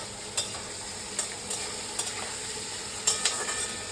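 Potatoes fry in a pan, a constant close hiss of sizzling oil punctuated by a few light, evenly spaced spatula taps and scrapes as they are stirred.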